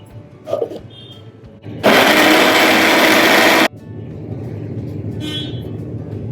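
A mixer grinder whirs loudly for about two seconds as it grinds fresh pigeon pea seeds into a fine paste in a home kitchen, starting and stopping abruptly against quiet room noise.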